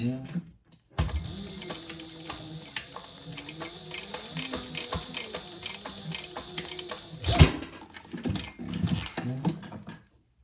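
Sewing machine top stitching a fabric eyeglass pouch, a steady close mechanical whir with rapid needle clatter running for several seconds, one sharp louder burst near the end, with a little talk.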